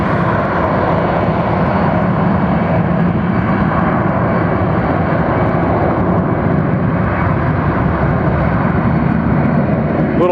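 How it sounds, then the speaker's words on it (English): A Boeing 767 airliner taking off from Atlanta Hartsfield airport roars with a loud, steady, broadband engine rumble that holds constant throughout, heard alone without talk. "She is getting ready to push those throttles forward and get this thing going on."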